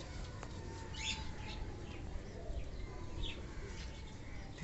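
Young fantail pigeons in a loft, with soft cooing and faint chirps and wing flutters over a steady background hiss, with no talking.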